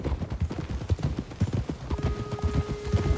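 Horse hooves clip-clop in a steady walking rhythm in the Red Dead Redemption 2 game, close and distinct, with a faint tonal game sound entering partway through.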